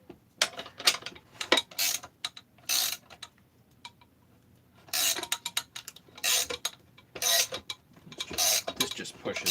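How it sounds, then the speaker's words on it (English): A Husqvarna 262xp chainsaw crankcase is split with a modified Chinese case splitter fitted with a 5/8 threaded rod, giving bursts of sharp metallic clicks and ratcheting, with quieter pauses between. "this is a Chinese case splitter that I've modified with a 5/8 threaded rod here"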